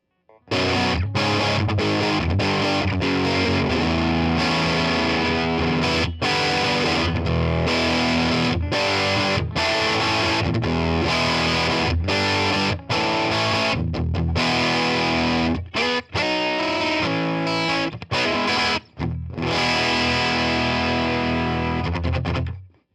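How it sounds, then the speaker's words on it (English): Electric guitar played through a BOSS chorus ensemble pedal, shimmering and wide with a slightly distorted edge, continuous chords and riffs throughout. "I'm going to show you the chorus ensemble effect."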